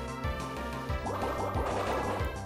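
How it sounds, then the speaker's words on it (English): Water Pulse attack in the Pokémon Platinum battle, a bubbly, gurgling liquid effect with repeated watery pulses over a looping chiptune battle tune, with no talking. "Better be safe and just Water Pulse"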